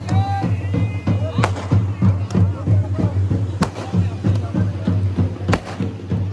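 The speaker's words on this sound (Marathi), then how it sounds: "फटाक्यांची आतिषबाजी बघा" Firecrackers crack and bang repeatedly at irregular intervals at a Kunkeshwar temple procession on the seashore, some sharp and close, over a steady low drone and a murmuring crowd.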